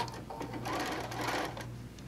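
A sewing machine stitches a seam on a star-pattern quilt top made from a panel, a steady close mechanical whir running through the whole stretch without talk.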